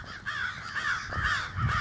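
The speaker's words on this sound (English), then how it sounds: "goddamn crows, look at them, nasty birds" Crows caw along a street during a walk, several harsh, repeated calls at moderate distance with a soft background hum.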